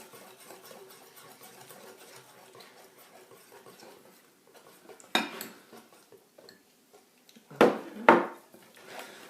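Biscuit dough of butter, icing sugar, vanilla sugar, egg and cornstarch being stirred in a bowl, soft scraping at first, then a few sharp clinks and knocks of the utensil against the bowl near the end.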